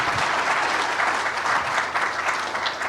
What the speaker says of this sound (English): So please give a round of applause to Dr.